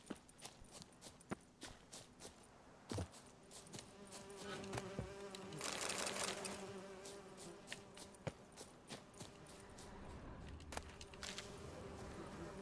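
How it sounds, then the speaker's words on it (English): Bees buzzing around a beehive in The Witcher 3, a steady insect drone with a swelling burst of buzzing partway through, over game ambience and scattered footstep-like clicks. "I'm being attacked by bees."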